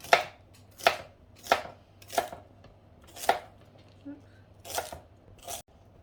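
A knife chops ingredients for beef noodle soup on a board, about eight crisp, separate strikes at an uneven pace, close and clear against a quiet background hum.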